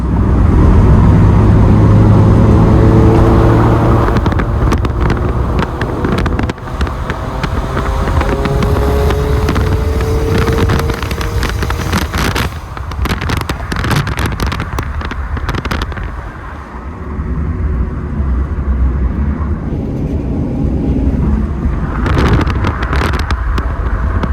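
A Toyota FRS driving on the road with steady loud engine and road roar heavily buffeted by wind noise, with bursts of rattling crackle partway through and no talk.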